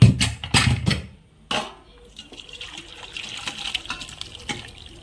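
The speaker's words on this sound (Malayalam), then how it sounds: "ആ കപ്പ നന്നായിട്ട് വെന്തിട്ടുണ്ട് ആ നല്ലപോലെ വെന്തിട്ടുണ്ട് ഇപ്പോൾ ഊറ്റി വെക്കാം" Water from boiled tapioca (cassava) pours off in a splashing rush, strongest at the start, then a softer trickle and dripping runs on at a low, steady level.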